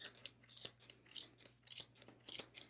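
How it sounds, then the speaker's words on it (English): Scissors cutting through wrapped yarn on a pom pom maker, a steady run of rhythmic crisp snips close by and quiet, with no talking. "And I'm not using fabric scissors."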